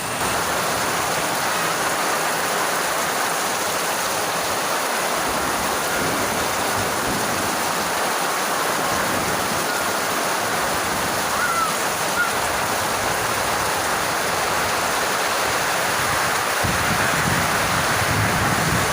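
Heavy rain pours down in a strong wind during a Kalbaishakhi storm, a dense, steady roar of water running unbroken and loud throughout.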